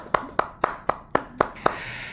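About seven sharp, evenly spaced claps ring out, close and fairly loud, with quiet room tone between them, from a small audience at a Korean dharma talk on mind study.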